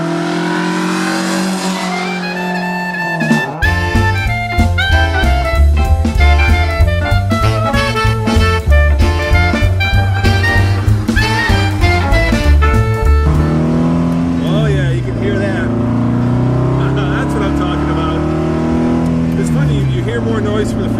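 A red 1960 Alfa Romeo Giulietta Spider with a carbureted engine drives with loud, close revving that rises and falls in pitch through repeated gear changes, while people talk throughout.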